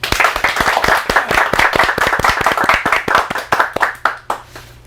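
An audience in a hall claps energetically to open a peace and unification lecture at a district unification festival, dense steady applause close by, sustained for several seconds before thinning out at the end.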